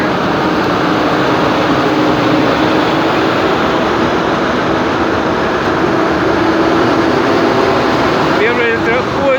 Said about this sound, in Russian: Первый поезд, который выехал с Крыла.